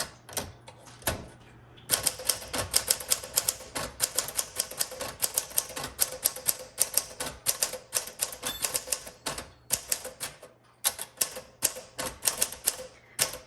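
A seafoam green 1961 Smith Corona Sterling manual typewriter being typed on: dense, fast runs of crisp key strikes close up, a short pause near the start, then steady clacking with brief gaps and no voices.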